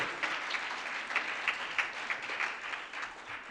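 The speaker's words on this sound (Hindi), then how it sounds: "डॉक्टर मनीषा जी के लिए हाँ जोरदार तालियां, जोरदार" An audience at a health camp in Noida applauds loudly, with dense, steady clapping and a few sharper claps rising above it, heard from a moderate distance.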